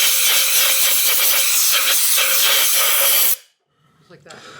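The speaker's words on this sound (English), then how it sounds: "if you have a compressor, blow some air down in there to blow any debris that might be around the spark plug" Compressed air blasts into the spark plug well of a 2003–2007 Honda Accord, a loud steady hiss that cuts off abruptly after about three seconds, followed by quiet faint handling noises.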